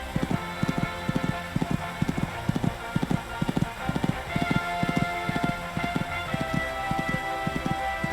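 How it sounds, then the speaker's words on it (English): Steady rhythmic hoofbeats of a horse galloping on a cross-country course in the video game Equestriad 2001 thud along continuously, with a faint pattering wash in the background. "These two are really galloping along now."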